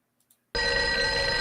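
A telephone bell starts ringing abruptly after a couple of faint clicks, a loud steady electronic trill close by, heard alone.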